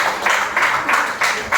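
An audience claps loudly to welcome a speaker onto the stage at an event, in dense applause that swells in repeated waves.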